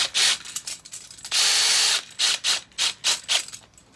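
A nut being wound onto a bolt through a flat washer and a spring washer, fixing a raised bed frame in a greenhouse, gives a run of quick ratcheting clicks in short bursts with one longer steady spell, close and fairly loud.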